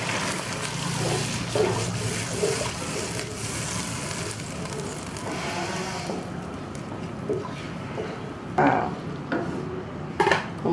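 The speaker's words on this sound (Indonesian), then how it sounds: "tambahkan air secukupnya" Water is poured into a pan over fragrant sautéed ingredients while cooking a flour-based Indonesian snack: a steady, fairly loud wash of splashing and hissing with occasional clinks of the pan, and no talking.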